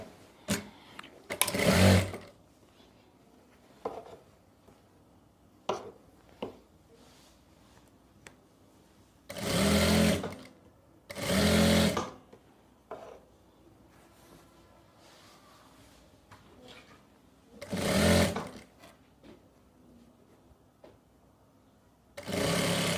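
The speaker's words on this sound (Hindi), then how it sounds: "अब पहले हम एक तरफ चुन्नटों पे सिलाई लगाएंगे हैं।" A sewing machine stitches along one side of the gathered pleats of a narrow salwar, running in several short, loud bursts separated by quiet pauses.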